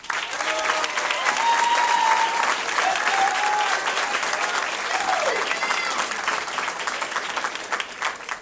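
Sustained applause from a theatre audience honouring the participants of a regional secondary-school performing arts competition, steady dense clapping throughout with some crowd murmur and faint cheering mixed in.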